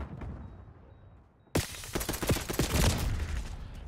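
Gunfire in Call of Duty Black Ops 6 erupts after a quiet moment, with a loud, rapid string of automatic shots cracking in quick succession and continuing as a dense, sustained burst.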